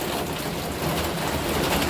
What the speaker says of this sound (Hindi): इतना ज़ोर से बारिश आ गया, एकदम ज़ोर से आ गया है